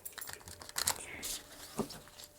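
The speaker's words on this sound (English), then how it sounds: "I'm going to give this deck a real good shuffle" A deck of cards shuffled close up: quick, soft riffling clicks followed by a couple of sharper snaps and a brief flutter, with no talk.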